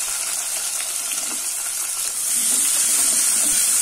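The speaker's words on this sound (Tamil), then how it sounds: "கொஞ்சம் வெங்காயம் நல்லா வதங்கட்டும்." Two large cut onions sizzling and frying in hot oil in a pan for veg masala rice, a steady close hiss that swells louder partway through, with no talking.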